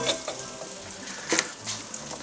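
Butter melting and sizzling in a frying pan for Russian pirozhki filling, a steady crackling fry with a few louder spits and pops, close by with no talk.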